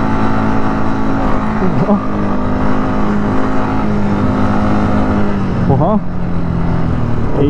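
A car engine drones loud and steady as it drives off-road across Dubai desert sand, the hum shifting in pitch as it revs, with a man's short exclamation over it.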